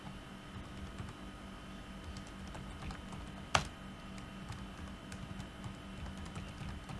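Soft, steady clicking of typing on a computer keyboard while entering a command prompt command to install PyInstaller, faint and close with one sharper keystroke midway, no talking.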